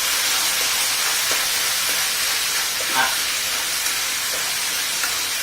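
Sugar caramelizing in a hot pan for a chicken dish with soybean paste gives off a steady, close sizzling hiss with a few small pops and crackles, with no voices.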